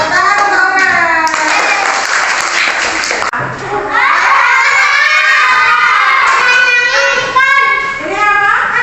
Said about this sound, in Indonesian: Tepuk tangan untuk Aurel